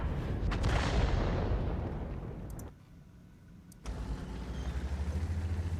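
A heavy self-propelled artillery gun fires in World of Tanks with a deep, booming blast that rolls off into rumble. After a brief lull, loud engine-like droning resumes.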